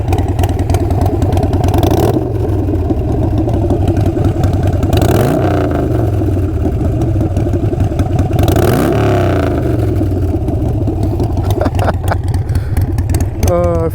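A Harley-Davidson Sportster 48 fitted with Kinetic 540 lateral exhaust rumbles at close range, revved in a few swelling pulses over a steady idle, with the throttle blipping near the end.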